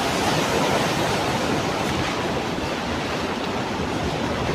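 Floodwater rushes down a swollen river in a Jharkhand village after days of continuous rain, a loud, steady roar with no break and no voices.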